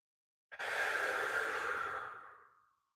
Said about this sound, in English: And then just breathe.